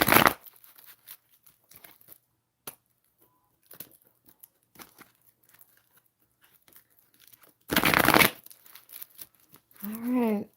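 Tarot cards are shuffled by hand in two sharp, rustling bursts, one at the start and a longer one later, separated by soft handling noises in a quiet room.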